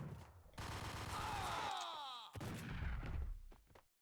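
Rapid bursts of gunfire in the video game Max Payne crackle loudly, a dense volley followed by a sharp break and more shots, with a brief whistling streak mid-burst.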